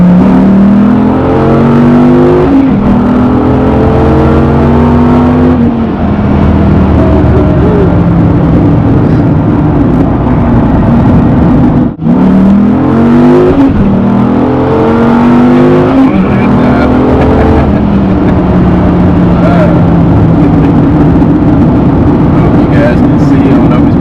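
A Dodge Viper on meaty tires revs and accelerates hard in repeated rising engine pulls, loud and close from inside the car, with shift breaks between surges.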